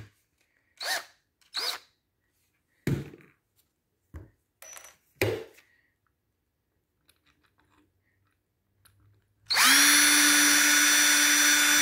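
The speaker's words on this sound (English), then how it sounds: "we'll try to make this hole a little bit bigger by using the same bit" A power drill fitted with the same bit spins up loudly and steadily to enlarge a hole in oak door molding. It comes in near the end, after several sharp knocks and thuds in an otherwise quiet room.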